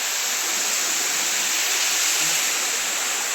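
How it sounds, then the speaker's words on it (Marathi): A Konkan river stream runs through dense woodland thicket, a constant loud rushing wash of water close by, unbroken and without speech. "झाडी आहे आणि मध्येच नदी आहे"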